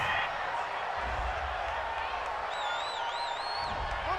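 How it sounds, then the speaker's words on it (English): A home crowd at a UFL football game between the Salt Lake City Hornets and Los Angeles Aztecs roars steadily after a penalty flag call, a broad distant wash of cheering and whoops with a high whistle-like tone near the end. "This home crowd, they're happy with that call."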